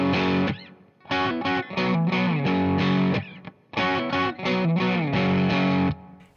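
Distorted electric guitar plays the bridge figure in fourths, loud and close, in two choppy phrases of stabbed, sliding chords with short gaps between them.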